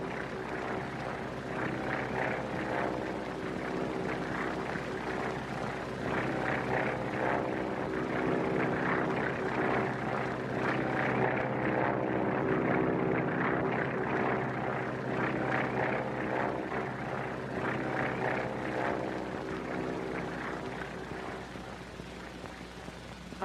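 An airplane engine drones steadily in flight, a continuous humming propeller roar at even loudness throughout, with no talk over it.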